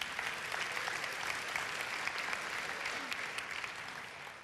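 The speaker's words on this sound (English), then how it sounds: "Please give them a big round of applause." An audience at a Strassenfest pageant applauds the event sponsors with continuous, even clapping heard from a moderate distance, fairly quiet and uninterrupted by any talking.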